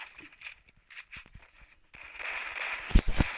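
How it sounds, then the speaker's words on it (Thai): A grenade goes off in an online 4v4 ranked shooter game, a sharp loud burst near the end after scattered clicks and quieter game sounds, with no talking over it. "มีคนโดนระเบิด"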